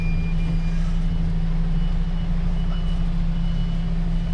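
A truck reverses with a steady low engine rumble filling the background, while a faint, regular reversing beeper repeats on top throughout.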